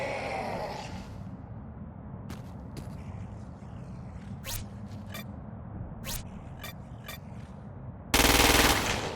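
Single gunshots ring out at irregular intervals as a player shoots a freak in Crackdown 2, each crack distinct against a quiet game backdrop, ending in a loud sustained burst.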